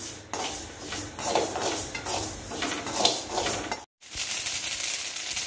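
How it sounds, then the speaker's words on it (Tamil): Flaxseeds dry-roast in a pan with a continuous rustling crackle and scraping from stirring, small pops scattered through, and a brief silent cut near the end. "இந்த ஃப்ளக்ஸீடு வந்து நல்லா வறுபட்டதோட டப்பு டப்புன்னு எள்ளு மாதிரியே தெரிக்கும்."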